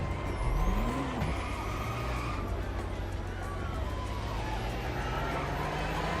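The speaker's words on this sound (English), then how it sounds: "it also has a little bit of an engine noise to it compared to the other electrics" An electric car in The Crew Motorfest hums with a faint synthetic engine tone and steady road rumble, with a brief rising and falling whine early on, continuous and moderately loud.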